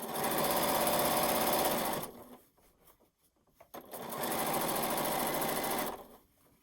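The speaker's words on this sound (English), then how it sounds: "I'm going to stitch on to the other side here." A sewing machine stitches binding onto a quilt in two loud, steady bursts of about two seconds each, separated by a short quiet pause as the presser foot is lifted and lowered.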